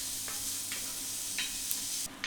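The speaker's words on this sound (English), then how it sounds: "I'm going to add my onion, season it with some salt. We're going to let that cook, stirring occasionally until it's nice and tender" Onion seasoned with salt cooks in hot oil, giving a constant close hiss as a spoon scrapes and stirs at intervals, with a brief clunk near the end.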